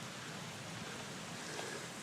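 Heavy rain comes down steadily during a 2013 flood, a faint, even hiss of falling water with no talking over it.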